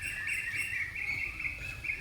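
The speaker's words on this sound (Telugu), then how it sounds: "కోకిల రావాలు, పిచ్చుకల కిలకిల" Birdsong from an orchard, said to include koel and sparrow calls, forms a continuous, faint high chirping that carries on steadily for a couple of seconds.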